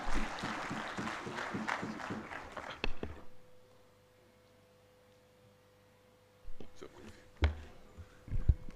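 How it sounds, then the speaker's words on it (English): Conference audience applause at a national healthcare quality improvement event, a dense burst of clapping that stops abruptly, then quiet room tone before a few scattered claps and thumps return. "Let's give him another round of applause"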